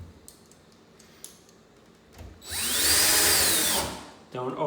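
A power drill drives a screw through a door latch into wood while a French door is hung in a finished opening. A few light clicks come first, then one loud whirring burst of about two seconds, close and alone.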